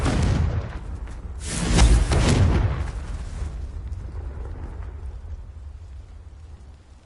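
A Confringo blast spell explodes in the Hogwarts Legacy video game, a loud burst that swells around two seconds in and then rumbles and fades into a low, steady background roar.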